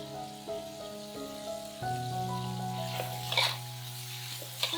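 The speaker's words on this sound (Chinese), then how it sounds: "如果喜欢吃脆爽口感的芹菜呢，稍微翻炒一下就可以了" Celery stir-fried briefly in a wok after seasoning with soy sauce, a continuous close sizzle with scraping spatula strokes and a few sharper clatters toward the end, no talking.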